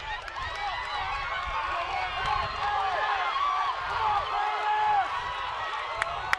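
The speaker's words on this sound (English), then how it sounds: "you can hear the crowd is really into this race" A crowd cheers steadily at a city championship track relay race, a sustained roar of distant voices and clapping running beneath two commentators talking over it.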